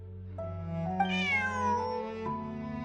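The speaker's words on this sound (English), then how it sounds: "Bonnie is Pierre's cat" A cat meows in the video game Genshin Impact. It is one clear, drawn-out, rising and falling meow with a second shorter call after it, heard alone and close.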